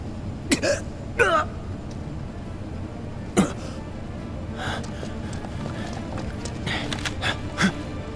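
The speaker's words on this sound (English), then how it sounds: "it sounded like some old coughing person" Coughing from a character in the video game Final Fantasy VII Remake, several short raspy hacks spread over a steady background of game ambience, with no talk over it.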